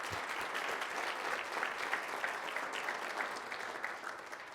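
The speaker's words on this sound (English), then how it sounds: "So let's give Isaiah a big round of applause." Applause from an audience at a high school college signing event, a steady dense wash of clapping that fills the whole stretch at moderate volume without talk.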